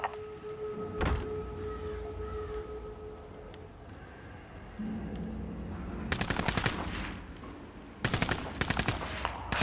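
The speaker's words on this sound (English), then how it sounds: "Friendly sentry gun online!" A friendly automated sentry gun fires in Call of Duty: Modern Warfare, with two loud bursts of rapid automatic fire late in the clip over steady game ambience and a lower rumble.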